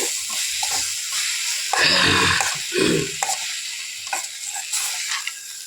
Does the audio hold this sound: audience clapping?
no